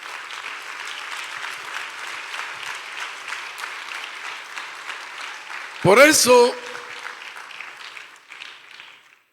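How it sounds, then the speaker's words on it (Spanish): Church congregation applauding loudly at a sermon, dense clapping running steadily for several seconds under a preacher's voice, then a short loud vocal burst and the applause thinning out at the end. "Apláudale fuerte, hermanos."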